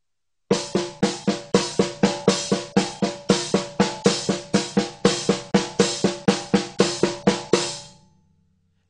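A steady hand-played drum pattern in 7/8 of sharp, evenly accented strikes, close and loud, ending abruptly into silence.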